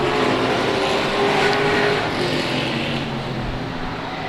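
Sportsman race cars roaring around a dirt track during a heat race, a dense, steady wall of engine noise with cars close by and passing, staying loud throughout without a break.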